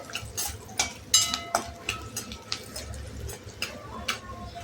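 Peanuts tossed and stir-fried in a pan for ragi puffed-rice chivda, giving a run of light irregular clinks and scrapes against the pan under a faint background hiss, with no talk.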